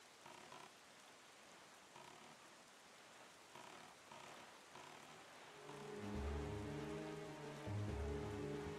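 Rain falls in a storm over a destroyed island in The Legend of Zelda: The Wind Waker, faint and steady at first, then a low rumbling swell joins in the latter half.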